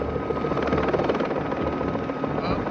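The helicopter from the 1983 film Blue Thunder gives a steady, loud whirring rotor thrum with a turbine whine, continuous throughout, with faint talk beneath.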